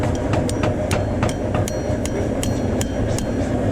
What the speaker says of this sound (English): You actually strike that one with another hammer